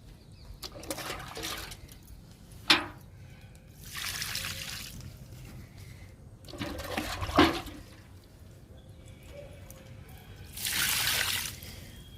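Liquid fertilizer poured onto drumstick (moringa) plants in a home garden, heard as several separate bursts of splashing, trickling water, fairly close and loud, with quiet pauses between pours.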